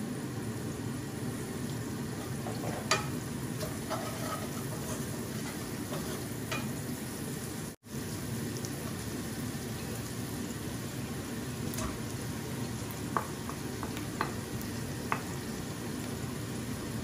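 Food sautéing and being stirred in a frying pan, a steady close sizzle with scattered scrapes and clinks of the utensil, continuous and fairly loud with no talking.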